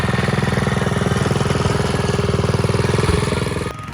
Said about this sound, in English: Then we got the piva tractor.